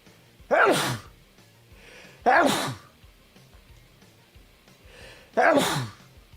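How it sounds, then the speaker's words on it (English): Three sharp, close sneezes come in quick succession, each a loud burst with a short breathy tail, separated by near-silence. "I gotta sneeze, hang on."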